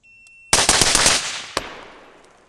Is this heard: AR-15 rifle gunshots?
yes